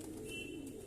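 Pigeons of several kinds kept together at night coo softly and continuously, a low steady murmur from close by with no talk over it.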